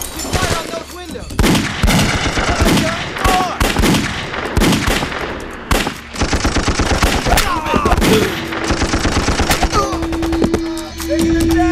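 Sustained gunfire pours at building windows in a combat scene: loud, rapid machine-gun bursts and single shots crack in quick succession, with shouted voices mixed in.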